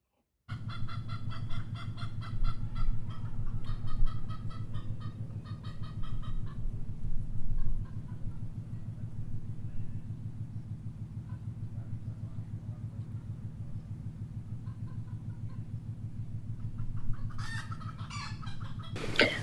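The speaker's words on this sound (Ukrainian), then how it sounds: "Кури. Це птахи, які несуть яйця." Chickens cluck and chatter continuously in a steady farmyard murmur, with brighter calls near the start and a sharper squawk toward the end.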